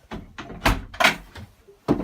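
Wooden cabin doors inside a 1984 Vauquiez Pretorien 35 sailboat give a few close, sharp knocks and thuds as they are opened and shut, spaced irregularly with quiet gaps between.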